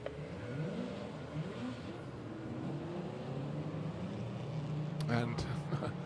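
Race cars pulling into the pits at Brands Hatch during a classic sports car race, a steady engine drone with shifting pitch sweeps, a commentator talking over it, and a sharper rev burst near the end.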